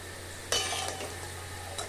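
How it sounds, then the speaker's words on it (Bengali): Cabbage pakoras frying in oil in a kadai, a soft steady sizzle that swells briefly with a stir or turn of the fritters, close and fairly quiet with no voices. "আমরা উল্টে পাল্টে ভালো করে পকোড়াগুলোকে খুব সুন্দর করে ভেজে নিয়েছি"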